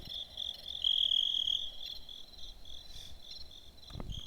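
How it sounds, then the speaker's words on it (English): Crickets chirping in a steady high trilling chorus, fairly close and continuous, with a brief faint thump near the end and no voices. "Crickets."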